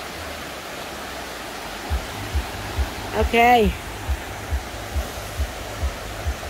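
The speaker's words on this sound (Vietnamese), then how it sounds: "Các bạn thấy nước suối chảy đã không?" Steady, even rushing of a mountain stream near Buôn Đôn fills the whole stretch, with faint soft thumps and a brief spoken word partway through.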